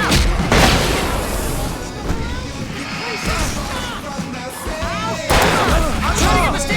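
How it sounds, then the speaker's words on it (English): Fireworks burst in the video game Alan Wake, with booming, crackling explosions layered over a dense, chaotic action soundscape while voices shout and grunt throughout. "I can set off more of the fireworks from here and help you out!"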